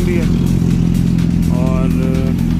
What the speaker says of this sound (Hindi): बाइकें गर्म हो रही है